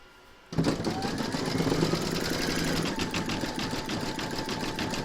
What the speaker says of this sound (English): We're now going to pop this back into your machine and stitch round number 7, and that's going to zigzag all the raw edges.